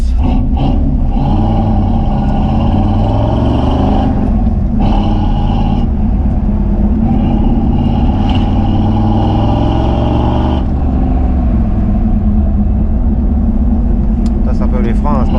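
The Eleanor car on its first drive, engine running with a deep steady rumble and occasional revving, loud and close throughout, with people talking over it.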